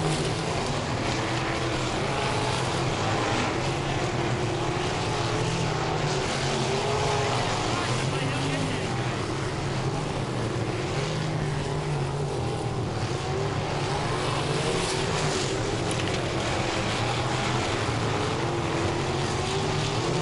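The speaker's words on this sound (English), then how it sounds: "you hear the roar of the engines while you're standing up there" A continuous loud engine roar with droning, shifting pitch, like racing cars heard from trackside at a New England racing event, with a voice faintly under the noise.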